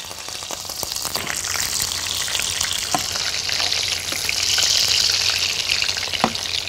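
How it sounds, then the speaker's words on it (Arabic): Sea bream fish sizzling in a hot frying pan, with steady crackling spatter, occasional sharper pops and soft stirring sounds, close up and without talk. "نقلي في الطاسة."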